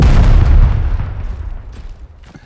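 A bomb explodes in the Out of Reach Treasure Royale video game. One loud, close boom gives way to a long, rumbling tail that fades gradually.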